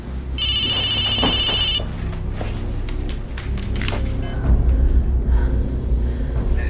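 A 1990s cell phone rings in a scene from the X-Files film, where the rings come from inside a large freezer; a loud repeating electronic ringtone is followed by rumbling and footsteps.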